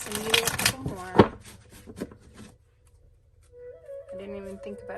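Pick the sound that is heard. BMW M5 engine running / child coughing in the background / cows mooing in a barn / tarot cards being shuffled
tarot cards being shuffled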